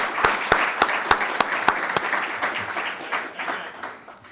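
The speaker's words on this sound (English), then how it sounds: "if you join me in a round of applause for Con and all the folks at the center" Audience applause at a conference panel on regulation, beginning with several sharp, distinct claps that quickly blend into warm, sustained clapping from the room before tapering off.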